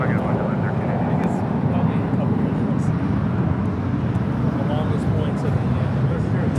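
JetBlue Airways Airbus A321 departing LAX runway 25 right for Boston, a steady broadband jet roar holding level throughout, with voices talking over it.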